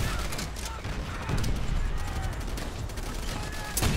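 Gunfire in the World at War video game during co-op play: bursts of rapid shots and scattered bangs crackle through a busy battle mix, fairly quiet overall, with a sharp burst near the end.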